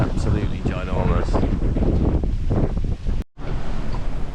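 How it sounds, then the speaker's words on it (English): Strong wind at sea roars steadily across the microphone on a sailing boat with broadband rushing noise, a brief dropout near the end, and no talking. "It's really windy."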